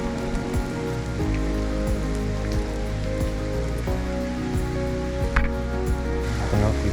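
Rain falling in a forest beside a river, a dense, steady patter of drops on leaves and surfaces with occasional louder close splashes, continuous and fairly loud throughout.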